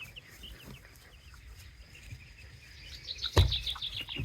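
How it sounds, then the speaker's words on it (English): Chickens about fifteen weeks old cluck and call softly at a distance, with a sharper, louder call breaking out near the end. "Oh, Reggie, it's a little chicken chick."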